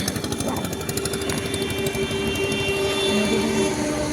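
A running train gives a loud, continuous rattling rumble with a rapid, jackhammer-like clatter and faint steady whining tones, sustained without a break.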